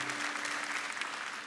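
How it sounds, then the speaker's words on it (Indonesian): A church congregation claps steadily during a sermon, a dense wash of applause that stays even for the whole short stretch. "sekali lagi tepuk tangan yang paling luar biasa"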